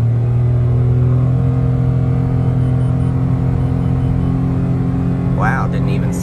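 A 2021 Mitsubishi Mirage SE in sport mode pulls hard up a steep highway merging ramp, its engine droning loud and steady inside the cabin with a constant low rumble, and a brief higher whine rising near the end.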